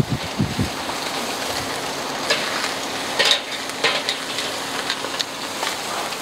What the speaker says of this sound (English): you can see that surface sizzling